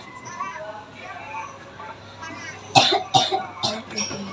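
A patient coughs several times in quick, harsh bursts near the microphone, following a stretch of quieter background speech and room noise.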